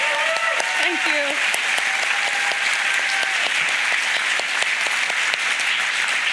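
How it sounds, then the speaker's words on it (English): An audience at a poetry reading event in Spokane breaks into sustained applause, a dense, even wash of clapping that fills the room from start to finish while a voice speaks briefly over it. "Another round of applause for the night's poets."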